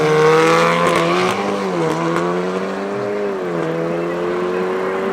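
BMW X3 drag racing cars at Midvaal Raceway, a loud engine drone whose pitch rises and dips with gear changes as the car pulls away, heard from fairly close.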